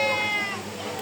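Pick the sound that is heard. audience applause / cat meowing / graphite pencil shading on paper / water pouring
cat meowing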